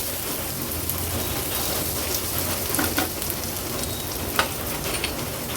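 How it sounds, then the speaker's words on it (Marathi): Ginger-garlic paste sautéing in hot oil for chicken kachori filling, a steady close sizzle with soft crackles and occasional louder pops throughout, no talking. "आलं लसूण क्रश तेलावर थोडंसं परतून घ्यायचं आहे"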